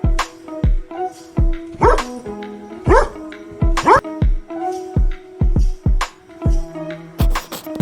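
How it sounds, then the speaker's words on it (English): A dog barks repeatedly in sharp, loud bursts with short yips in between, close by and over a steady background tone. "D for dog"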